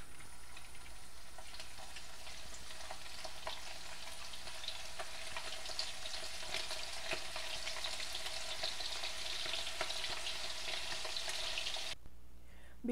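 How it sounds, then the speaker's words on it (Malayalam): Beef pieces frying crisp in hot oil in a pan, Kerala style: a continuous, close sizzle with crackling pops and occasional stirring scrapes, cutting off sharply near the end, with no talking. "ഇനി നമുക്ക് ബാക്കി ഇരിക്കുന്ന ബീഫ് കൂടി ഇങ്ങനെ ഫ്രൈ ചെയ്തെടുക്കാം"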